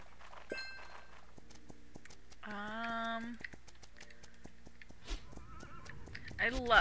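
A horse in the Horse Life video game gives a brief tonal whinny amid game clip-clop and clicks, fairly quiet, with a person talking at moments.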